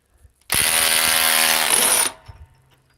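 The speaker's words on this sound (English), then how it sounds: "Okay, DeWalt XR DCF 870 hydraulic, 5 amp power stack, 200 foot-pounds." DeWalt XR DCF870 hydraulic impulse driver with a 5 amp power stack rated at 200 foot-pounds, one loud rapid ratcheting burst of about one and a half seconds, close up and alone, then winding down.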